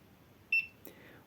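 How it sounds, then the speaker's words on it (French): A competition timing box for electric model flying gives a single short electronic beep when it detects the motor running, clear and close against a quiet background, followed by a faint brief click. "On entend le bip qui indique que le moteur est en marche"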